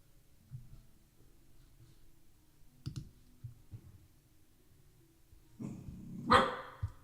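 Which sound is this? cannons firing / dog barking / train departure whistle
dog barking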